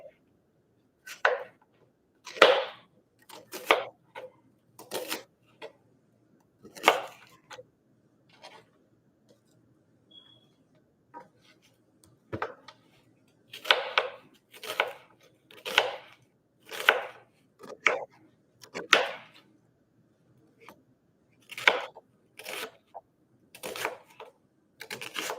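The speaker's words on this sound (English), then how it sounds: "we're just cutting the white onion so that we can put into whatever this is going to turn out to be" A knife chops white onion on a cutting board while cooking, crisp irregular knocks arriving in quick bursts with brief pauses between, close and clear in a quiet kitchen.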